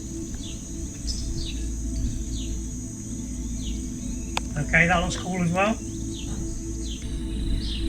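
Birds chirp in an East African grassland scene inside the VR app Ecosphere, repeated short high calls over a steady insect-like drone, with a voice speaking briefly in the middle.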